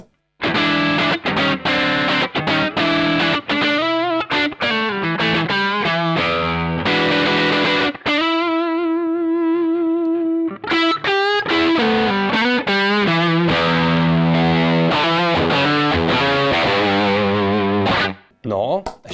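Heavily distorted electric guitar through a RAT distortion pedal into a clean Fender channel plays choppy riffs and sustained chords, gritty and saturated, with short pauses between phrases and one long ringing note in the middle.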